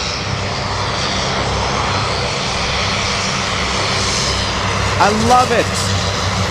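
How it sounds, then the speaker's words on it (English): Cessna Caravan seaplane flying over Anchorage, a loud continuous engine drone with a steady roar throughout, while someone speaks briefly near the end. "Oh, seaplane. Nice. We have the seaplane. Says the Caravan."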